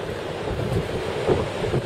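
Steady, rough wind buffeting the microphone on Coney Beach with a constant low rumble, and surf faintly washing underneath.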